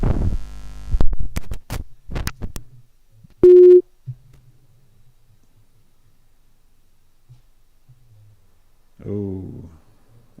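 A tone on a phone line sounds once, about a third of a second long, after a dropped call on a live call-in stream. Talk comes before it and a voice returns near the end, over faint hum.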